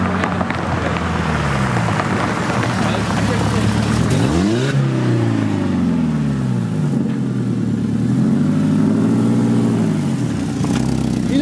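Car engine revving in a small tuned hatchback, about 102 hp: steady engine noise close up, with repeated rising and falling revs, each climbing in pitch and dropping back, loud throughout and not overlapped by talk.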